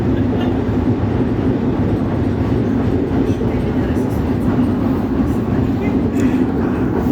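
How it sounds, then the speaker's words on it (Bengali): An old tram in Italy runs along its rails in a loud, continuous rumble with rhythmic rolling and occasional clicks, heard steadily from onboard; voices may murmur faintly beneath it. "ইতালিতে ট্রাম অনেক পুরাতন একটা ট্রেন"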